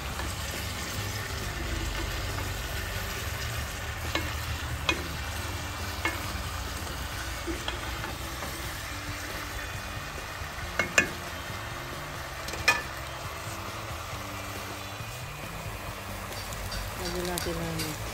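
Papaya and raw chicken cubes sizzle and fry together in a pan, a steady hiss with occasional stirring clinks and scrapes, while a person talks over the cooking.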